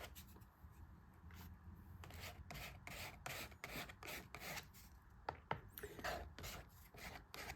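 Paint is scraped across an art journal page in a quick series of close, dry rasping strokes, fairly faint and rhythmic.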